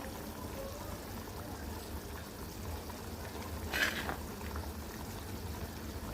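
A pot of vegetable curry with eggplant and potato simmers at a steady boil, giving a soft continuous bubbling and hissing with a brief louder gurgle midway.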